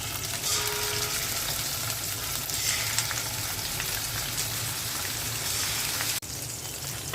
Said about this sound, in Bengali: এখন রুই মাছগুলো ভেজে নেব।